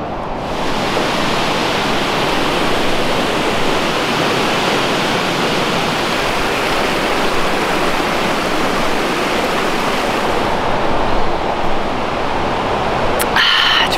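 Natural spring water at Mount Shasta City Park pours and splashes steadily, a loud continuous rushing wash close by that holds unbroken for the whole stretch, with a brief clatter near the end.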